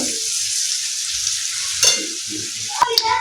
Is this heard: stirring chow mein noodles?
yes